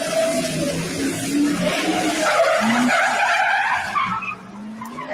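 Tires squeal and skid as the Batmobile swings hard around a corner, loud and sustained, with engine noise underneath and a rising whine fading at the end.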